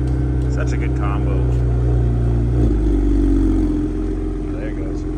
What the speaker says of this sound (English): Oh, there it goes. A little exhaust noise.